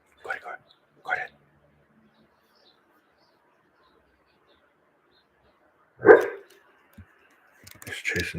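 Soft muffled woofs and whines come from a dog dreaming in its sleep: two short yips early on, a louder bark after a long quiet stretch, then scattered whimpers close by in a still room.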